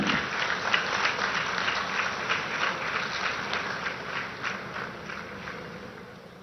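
An audience at the Deoghar airport inauguration claps steadily in a dense, even wash of applause for several seconds that slowly tapers toward the end.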